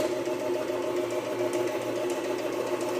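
A homemade two-tank air compressor's motor turns over slowly, giving a steady mechanical hum with a faint rhythmic chatter. Nobody talks over it.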